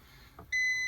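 When the ignition is switched on, the security system of a 2020 Maruti Vitara Brezza gives one clear, steady electronic beep, close and loud after a faint click.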